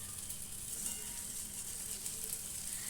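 Ras bora fritters fry in hot oil, a steady, even sizzle that holds throughout, close but fairly soft with no voices.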